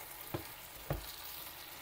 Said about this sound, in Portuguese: A abobrinha, de tempos em tempos, tem que vir aqui, abrir e dar uma mexida.